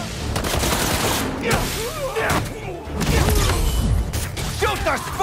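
Gunfire in the video game Marvel's Spider-Man 2, loud rapid bursts of shots mixed with mechanical clanks and action effects, with voices shouting over the top.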